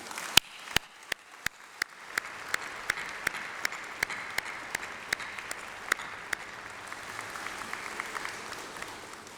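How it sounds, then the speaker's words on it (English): Graduation ceremony audience applauding: a steady wash of many hands clapping, with single loud, sharp claps standing out in a regular beat near the microphone, sustained through the whole stretch. "Graduands, please join me in a massive round of applause for those people"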